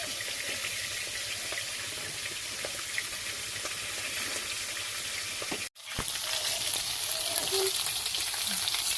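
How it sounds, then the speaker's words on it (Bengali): Two fish fry in a crowded wok of hot oil, giving a dense, even sizzle throughout with one short dip near the end and occasional light scrapes. "দুটো মাছে দেখুন কড়াই ভর্তি হয়ে গেছে, তাই বেশি মাছ দেওয়া যাবে না, দুটোই ভাজতে হবে"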